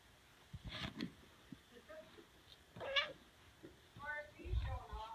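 Several cats meow in a room during an afternoon tour, with short plaintive calls scattered through the clip, fairly close, alongside people talking quietly nearby.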